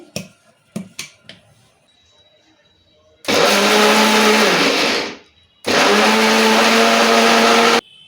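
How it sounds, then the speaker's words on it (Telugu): An electric mixer grinder grinding cooled green chillies runs in two loud whirring bursts of a few seconds each, following some light clicks and taps as the jar is set in place. "ఇప్పుడు మిక్సీ పట్టుకుందాం చల్లగా అయింది"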